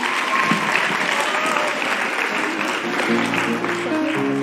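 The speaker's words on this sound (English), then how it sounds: "Can we give them a warm round of applause and say thank you to them?" Sustained audience applause, steady and dense throughout, with a few voices and a tonal hum rising near the end.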